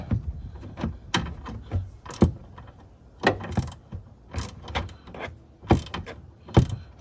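A wrench working a nut on the sway bar end link of a Volkswagen Jetta, heard as close, repeated bursts of clicking and ratcheting metal in an uneven rhythm with brief pauses between turns.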